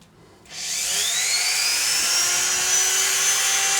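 A power drill spins up after a brief quiet start, then whines steadily at high speed for several seconds, close and loud, with no talking.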